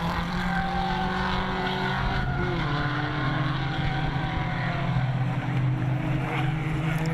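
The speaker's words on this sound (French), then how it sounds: "c'est Xavier Jacquet qui va prendre les commandes de la course devant Anthony Delay, Florent Casalo et Claude Rucheton" Historic race cars roaring around the Lédenon circuit, a steady dense engine drone with shifting pitches as cars pass, wind buffeting the microphone.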